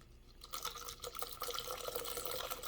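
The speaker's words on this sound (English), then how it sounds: "So I'm just gonna strain it in" A Diablo Rum Runner cocktail is strained into a large plastic cup, giving a steady, close liquid pour and splashing that builds after a brief quiet start and continues without speech.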